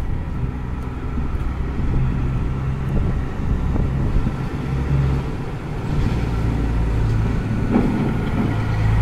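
Trucks rumble along a street in downtown Halifax, a loud, continuous low engine roar that swells and eases slightly as the vehicles pass.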